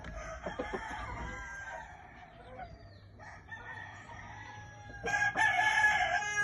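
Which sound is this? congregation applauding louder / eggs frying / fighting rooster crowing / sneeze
fighting rooster crowing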